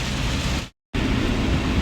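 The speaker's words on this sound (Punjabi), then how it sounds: "ਫੁਆਰਾ ਚੌਂਕ ਪੂਰਾ ਮੀਂਹ ਪੈ ਰਿਹਾ ਮਤਲਬ ਇੱਥੇ" Heavy rain pours down over a town square in a steady, loud, broadband hiss that cuts out completely for a split second before resuming at full strength.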